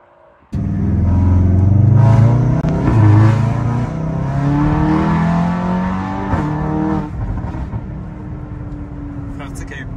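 Volkswagen Golf 7R, stage 2 with a straight-pipe exhaust, accelerating hard and loud up close, its engine note climbing through several rising sweeps with gear changes before settling into a steady drone, with a voice speaking over it.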